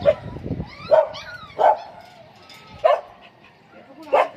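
A puppy gives a series of short, high yips and whimpers, about five bursts spaced unevenly, near and fairly loud over a quiet background.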